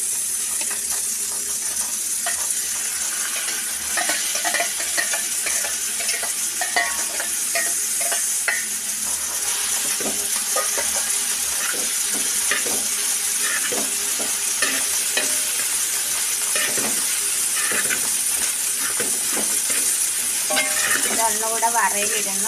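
Cooked clam meat fries with a steady sizzle in a pan for a dish of tapioca mashed with clam meat, while a utensil stirs and scrapes through it in quick, irregular strokes, close and fairly loud throughout.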